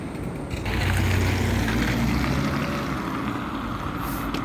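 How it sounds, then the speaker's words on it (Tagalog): A car rolls along a road on freshly fitted winter tires in below-freezing weather, giving a steady, loud, broadband roar that holds for several seconds with no talking. "Maingay po yung mga gulong ng sakyan, guys, kasi naka-ready to winter na sila"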